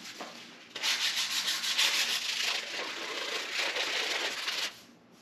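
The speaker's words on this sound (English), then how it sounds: "let's jump in with some of the 150 grit" Hand sanding of a painted railing with 150 grit sandpaper: a steady, close scraping rub that runs for about four seconds, then stops.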